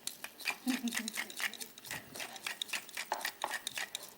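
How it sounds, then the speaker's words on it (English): A knife slices food on a board in quick, irregular cuts with light clattering, close and fairly quiet. "just slice it, that's fine"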